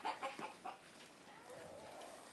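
Silkie roosters and other chickens give a few soft, quick clucks in a short cluster, then a quiet stretch of low background noise.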